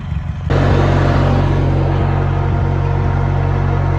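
A tractor engine in low gear tows an Allis Chalmers 616 Special on a rope. After a brief quieter start, a loud, steady, close engine rumble drones on without pause.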